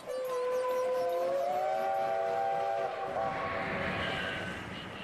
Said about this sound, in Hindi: देखो रेलगाड़ी रुक गई है।